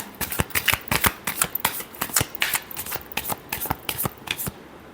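Tarot cards being shuffled by hand, a close, fast run of crisp riffling snaps and flicks repeating steadily for several seconds without talk.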